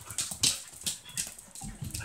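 Lively puppies pant and whimper close by, with quick breathy bursts and scuffling, no talking.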